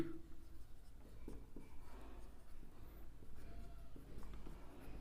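Pen or marker writing on a surface during a math lesson, soft scratchy strokes close by under low background hum, steady and quiet.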